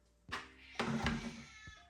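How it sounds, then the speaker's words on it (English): A house cat meows twice indoors, a short call followed by a longer, drawn-out meow, close and moderately loud, with a faint knock or thump near the end and no talking. "This fucking cat."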